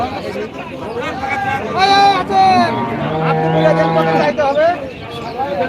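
A cow at a cattle market, apparently lame in one leg, moos in several drawn-out, tonal calls, fairly close and loud, over a steady murmur of crowd chatter and nearby voices.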